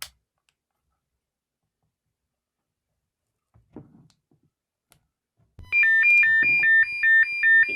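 A BF-OG200 portable radio's SOS emergency tone, a loud alternating two-pitch electronic beep that starts after a few quiet handling clicks and repeats rapidly.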